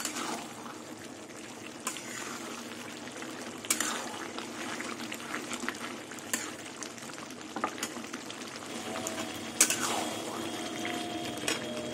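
Mustard oil is poured into a pan while a Bengali dish of jackfruit seeds, prawns and pumpkin greens cooks, giving faint trickling and light sizzling with scattered spoon clinks and clatter, and no talking.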